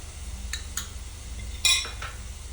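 A spoon stirs chili flakes, oregano and salt in a pan while butter garlic pasta is being made, giving a few sharp metallic clinks and scrapes against the pan at close range.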